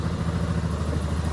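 Yamaha Lander 2024 motorcycle engine running steadily up close, a continuous mechanical idle with a fine rattling clatter from a loose housing, no voices.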